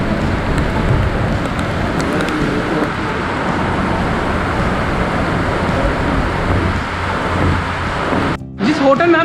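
Heavy rain pouring down on a hotel rooftop in Ajmer, a dense continuous hiss with low rumble underneath, loud and close throughout before briefly dropping out near the end; someone speaks over it at times.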